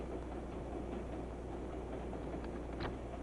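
A train rolling along the rails, a steady low rumble and hum of the moving carriages with no breaks in rhythm, faint and continuous throughout.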